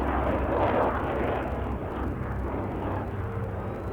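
Damaged F-16 fighter jet taking off, a loud, continuous engine roar that swells at the start and then holds steady.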